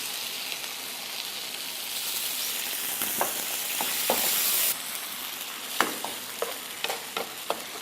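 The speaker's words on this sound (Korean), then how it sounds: "고추장이 살짝 익을 정도로만 볶아주시면 됩니다" Gochujang stir-fries in a pan with a little added water, a steady soft sizzle with scattered sharp clicks and scrapes of a utensil stirring, close and alone.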